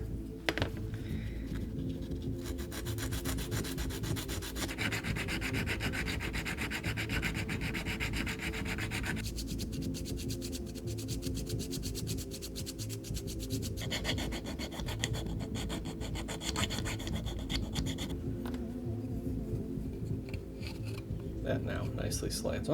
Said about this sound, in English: So let's grind the rail down a little bit.